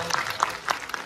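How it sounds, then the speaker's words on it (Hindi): Clapping from an audience at a school annual day celebration, with a brief burst of hand claps and scattered crowd noise, fairly close. "जोरदार तालियां प्लीज इनके लिए अपने"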